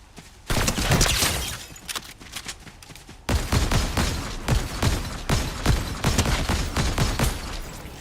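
Rapid video game gunfire in dense bursts: a volley starting after half a second, then a heavier sustained barrage from about three seconds on, loud and close with no talking.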